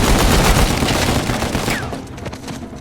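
A loud, dense fusillade of gunfire erupts in Uncharted 4: A Thief's End, with overlapping rapid shots that stay heavy for about two seconds and then thin out and fade.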